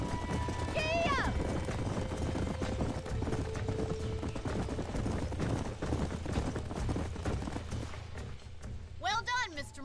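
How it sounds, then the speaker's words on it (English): Galloping horses clip-clop steadily throughout a ranch scene in a Western video game, hooves pounding under continuous ambient noise, with a horse whinnying near the start and again at the end while people talk. "These are fine horses."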